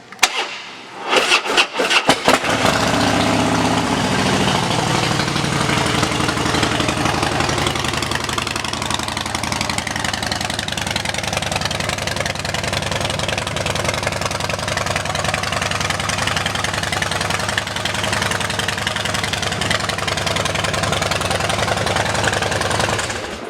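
A 2012 Harley-Davidson Softail Slim fitted with Vance & Hines exhaust fires up after a few clicks and settles into a loud, close, steady lumpy idle that runs unbroken with no talking.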